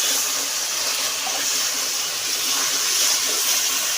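Water poured into cumin, ginger-coriander paste and dried chilli paste for cooking, giving a steady broadband splashing hiss that stays even and close for the whole stretch.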